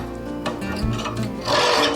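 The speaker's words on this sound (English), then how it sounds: "so I'm going to take my file and just file it down." Hand file rubbing down a small nub in a steady close rasp, continuous and fairly loud, growing brighter toward the end.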